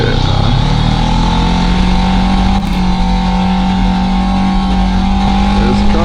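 Motor traffic drones on a Sacramento road as a car approaches, a steady loud engine hum with a sustained tonal whine, heard from inside a vehicle with no talk.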